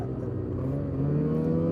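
A 2026 Ski-Doo 600 full-size snowmobile engine runs at partial throttle around 6,800 RPM, a close, steady droning rev with a slight rise in pitch and loudness partway through.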